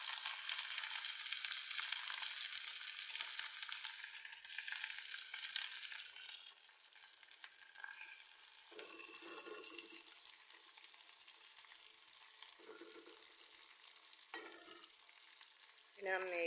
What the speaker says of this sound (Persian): وقتی یکم پیازا طلایی شد میگوها کامل میریزیم